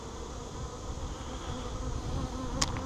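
A dense, steady buzz of many honeybees in an opened top-bar hive during inspection, close and continuous, with a faint brief tick near the end and no voices.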